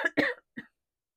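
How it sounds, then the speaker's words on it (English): A person coughs, a sharp burst and then a longer harsh cough, followed by a short, quieter final cough. The sounds are close and fairly loud, with silence after them. "Excuse me. I'm going to cough."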